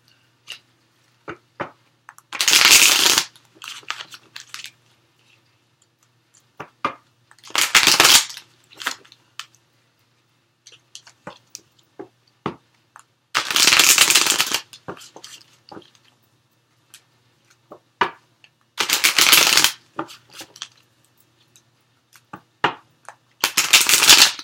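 Playing cards are shuffled up close in four or five short riffling bursts, separated by quiet pauses with small clicks and taps.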